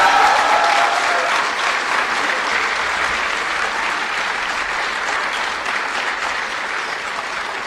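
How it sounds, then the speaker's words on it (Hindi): Sustained audience applause at the closing session of a conference on Indian languages and media, dense even clapping from a large hall audience, steady and loud from start to finish. "तो एक बार फिर से तालियों से अपना प्यार जाहिर करें।"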